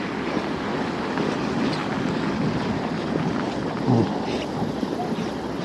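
Strong wind roars and buffets the microphone on a bitterly cold city street in Yakutsk at minus fifty, a continuous low rumbling gust with no break and no speech.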